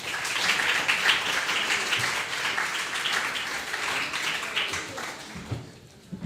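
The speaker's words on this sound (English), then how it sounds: "a big round of applause to welcome her" An audience applauds to welcome a writer onto the stage at a literary reading event, steady clapping that holds for several seconds before tapering off near the end.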